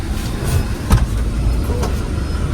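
Cabin rumble while riding a dolmuş minibus toward a city centre: a steady low engine and road drone with a single sharp bump or thud partway through.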